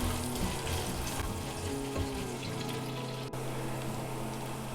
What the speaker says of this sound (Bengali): 1 কাপ পেঁয়াজ কুচি দিয়ে খুব ভালোভাবে ভেজে নিব।